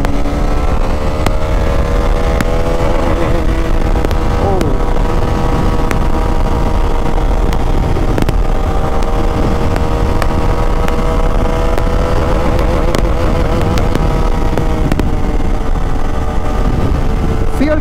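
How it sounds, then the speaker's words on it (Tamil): A 2022 Bajaj Dominar 400 motorcycle rides at speed, its engine droning continuously and loudly with shifting pitch under heavy wind rush. "வண்டி ஸ்டார்ட் பண்ணியாச்சு"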